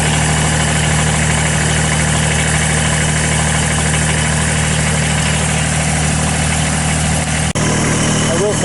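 Kubota BX2670 compact tractor with a 26-horsepower three-cylinder diesel, idling steadily inside its heated cab: a loud, constant low drone with a mechanical hum that cuts off abruptly near the end.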